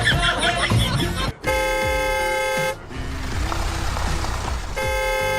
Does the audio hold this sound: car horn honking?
yes